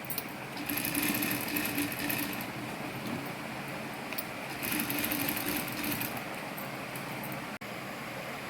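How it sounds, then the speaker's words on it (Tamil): A sewing machine stitches fabric with a steady, close mechanical whir that runs in two long stretches, easing slightly between them, with no talking. "மூணு பக்கமும் நம்ம அப்படியே மேலே தையல் போட்டோம்"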